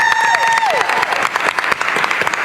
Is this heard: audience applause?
yes